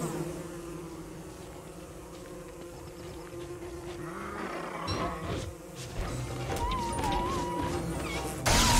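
Bees buzz in the video game Don't Starve Together, a persistent droning hum layered with other game effects and background music-like tones.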